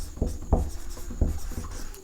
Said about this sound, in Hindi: इसको मैं थोड़ा सा यहाँ से लिखता हूँ